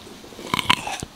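Someone bites into a crunchy grape, giving a few short, close crunching bites followed by brief chewing, loud against a quiet room with no talking.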